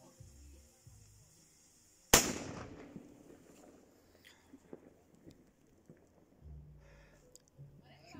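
A Cobra 1 firecracker simulator goes off once with a sharp, loud bang partway through, followed by a fading tail, with faint voices before and after.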